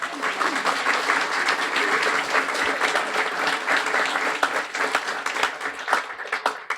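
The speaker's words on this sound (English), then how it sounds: "Warm round of applause for Cheryl." An audience at a Guiding Eyes guide dog graduation applauds a longtime volunteer; dense, steady clapping from many hands holds at an even level throughout.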